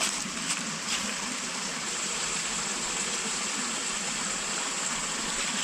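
Steady rushing of flowing water, like a creek running over stones, continuous and fairly quiet with no voices.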